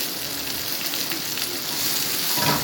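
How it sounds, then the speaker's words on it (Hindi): Onions sizzle and fry steadily in a hot pan for a Punjabi-style mixed vegetable sabzi, a continuous broadband crackle that swells slightly louder toward the end, with no talking. "बस इस मोमेंट पर मैं अपना डाल दूँगी इसमें अनियन।"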